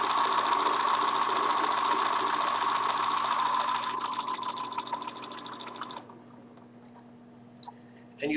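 A Bernina sewing machine stitches quilt fabric a quarter inch from the raw edge, a fast steady whirring chatter that runs loud for several seconds, then slows and stops, leaving a quiet hum.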